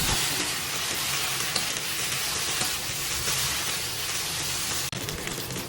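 Loud, continuous sizzling of vegetables, including tomato and celery, stir-frying in a pan for glass noodles, a dense hiss broken by one brief dip near the end.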